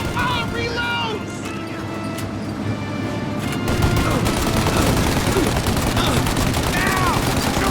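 Gunfire in the Mafia Definitive Edition video game: dense, continuous crackling shots and bursts from a firefight, loud and steady throughout and growing heavier partway through, with a voice faintly shouting over the din.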